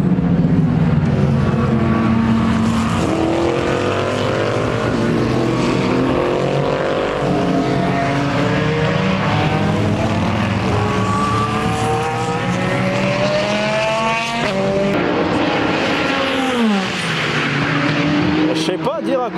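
GT race cars scream past at high speed one after another, engine notes rising and falling in pitch as each passes, loud and continuous with brief dips between cars.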